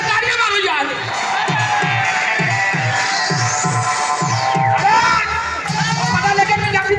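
A crowd at a Punjabi gathering cheers and claps steadily as a guest is welcomed, with a loud voice shouting over the noise and lively music playing underneath.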